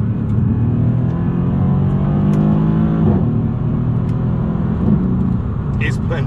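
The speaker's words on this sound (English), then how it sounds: "it just has that V8 burble" A tuned Mercedes C63S V8, mapped to 600 horsepower, gives a low, steady burble while cruising, loud and continuous throughout with a brief dip in the middle; a person talks over it.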